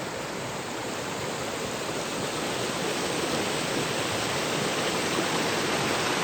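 Water from a waterfall pours down over rocks in a steady, loud, unbroken rush of white noise. The sound holds at the same level throughout, with no voices.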